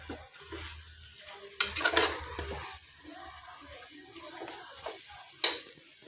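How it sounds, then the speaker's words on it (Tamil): Chili powder masala stirred and sautéed in a pan for a Tamil chicken drumstick curry, a soft steady sizzle with scraping stir strokes and a couple of sharper clanks, fairly quiet and close, no talking. "அந்த மிளகாத்தூள் ஸ்மெல் போகிறவரை நல்லா வதங்கணும்."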